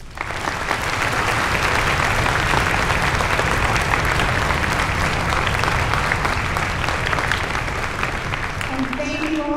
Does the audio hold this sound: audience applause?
yes